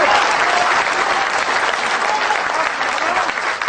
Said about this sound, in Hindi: तालियां सब मिलेंगी दोस्तों